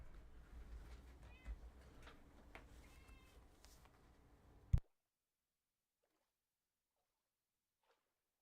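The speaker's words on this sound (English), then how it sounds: "No, that's definitely my cat." A pet cat meows several times close by in a room, with whiny rising calls under background noise, followed by a sharp bump and then near silence.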